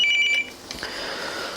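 A telephone rings loudly and close with a short electronic warbling tone, then cuts off as the call is picked up, leaving a brief rustle and room noise.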